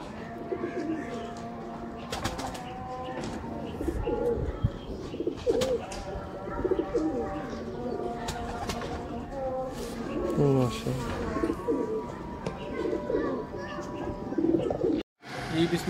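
Red-pearl 79 pigeons coo repeatedly, overlapping soft throaty calls close by, with occasional chirps and wing shuffles amid a busy loft background.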